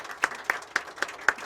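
Seminar audience clapping, a thin run of about five evenly spaced claps in a quiet hall, faint and brief.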